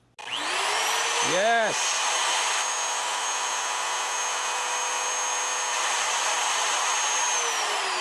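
An MPCNC router converted to run on FluidNC starts up, a loud, steady whining spindle and motor drone holding throughout, with rising and falling tonal sweeps early on and a single short spoken word.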